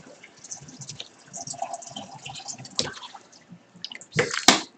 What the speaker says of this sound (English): More hot water underway.